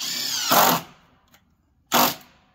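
A power drill drives 2.5 inch Torx screws into deck railing, two short loud whirring bursts separated by a quiet pause with a faint tap.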